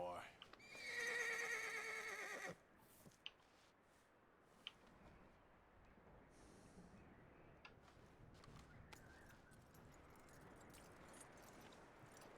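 A horse in the video game Red Dead Redemption lets out a loud, drawn-out whinny lasting about two seconds, followed by a few faint clicks and hooves over quiet ambience.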